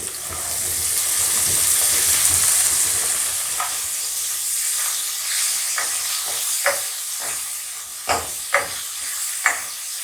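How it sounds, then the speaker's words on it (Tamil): Manathakkali berries frying in oil, a loud hissing sizzle at first that gradually fades, followed by a series of sharp spattering pops and clicks toward the end. "இப்போவே இந்த கழுவி எடுத்து வச்சுக்கிற மிளகு தக்காளி பழத்தை அதோட ஒன்றா போட்டு எண்ணெயிலேயே நல்லா பொரிஞ்சிடணும்."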